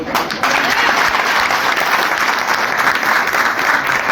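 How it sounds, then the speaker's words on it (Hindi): Audience applause breaks out at a motivational talk after a new global earnings plan is announced, a dense, loud and sustained clapping that fills the whole stretch without letup. "इस प्लान के लिए, समीर मोदी ग्लोबल प्लान के लिए तालियां हो।"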